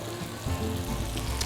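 Tofu frying in a pan for vegetable lo mein, giving a steady close crackling sizzle that runs the whole time, with a fuller low rumble from about midway as it is stirred; no one speaks.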